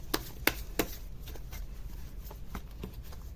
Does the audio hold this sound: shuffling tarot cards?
yes